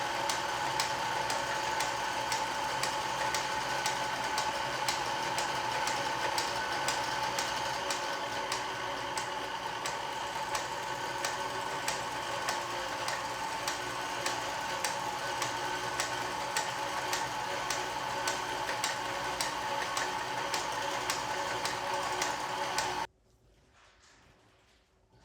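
A vintage Kenmore sewing machine runs steadily and close by, its rapid even mechanical ticking continuing for about twenty-three seconds before cutting off abruptly into near silence.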